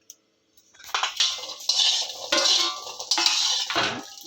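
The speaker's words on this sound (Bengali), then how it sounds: "প্রথমে আমরা শুকনো খোলায় কাঁঠালের দানাগুলোকে নেড়ে নিচ্ছি।" Jackfruit seeds are stirred in a dry pan for roasting, making bursts of rattling and scraping as hard seeds tumble against metal, starting after a short quiet and coming in several close strokes.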